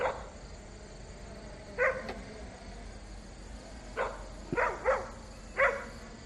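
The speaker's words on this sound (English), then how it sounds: "the dog's kind of freaked out about it" Several short, sharp dog barks from a dog startled by an MJX Bugs 3 toy drone hovering nearby, coming singly and in a quick cluster over a faint steady background hum.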